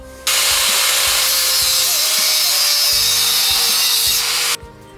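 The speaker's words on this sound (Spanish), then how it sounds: "Esto simplemente lo voy a hacer porque voy a cortar el tornillo." A screw being cut to length with a power tool, heard as a loud, continuous grinding and rasping cut lasting about four seconds that starts and stops abruptly.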